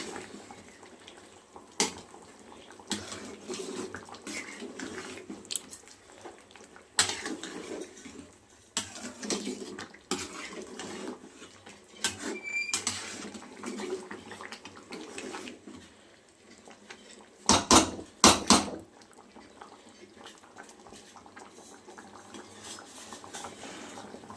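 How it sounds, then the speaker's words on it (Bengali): Cooked mixed vegetables with cumin powder being stirred in a pan, a run of close metal scrapes, clinks and knocks of a utensil against the pan, louder bursts near the middle and end, over low simmering. "জিরার গুঁড়া দিয়ে একটু নাড়াচাড়া করবো"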